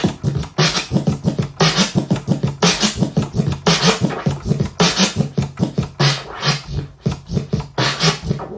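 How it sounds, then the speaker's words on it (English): Repeated slow chirp flare turntable scratches in a steady rhythm, short bursty strokes sweeping up and down, loud and close, with no talking. "if you do a slow chirp flare, it sounds like this"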